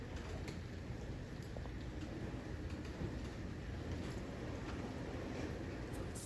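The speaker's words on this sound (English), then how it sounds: "It's just rain" Rain storm during tornado weather, a faint steady hiss of falling rain with some dripping and patter, heard from a distance with no talk.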